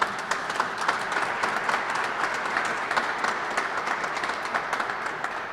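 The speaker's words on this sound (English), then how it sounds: "Let's give a big round of applause to all these Kentucky companies." An audience at a Kentucky roadshow event applauds Kentucky companies, giving continuous clapping with distinct individual claps poking through a steady wash, moderately loud and free of speech.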